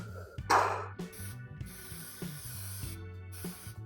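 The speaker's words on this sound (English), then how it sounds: "So basically it's the usual spray glue." A can of spray glue sprays onto tufted rug backing in a workshop, a loud close hiss bursting at the start, then shorter intermittent spray hisses follow over low background hum.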